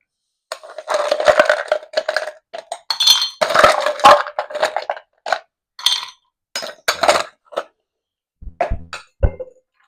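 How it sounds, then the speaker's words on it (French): Ice cubes knock and clink against a glass as it is being chilled for a Black Russian cocktail, a busy run of bright, irregular clinks and rattles, close and fairly loud, thinning into a few isolated taps. "Voilà, donc je vais glacer mon verre."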